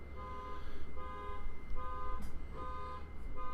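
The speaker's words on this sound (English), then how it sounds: "It's a really annoying car alarm." Car alarm going off outside, a faint repeating electronic tone pattern cycling through its pulses behind a muffled indoor background.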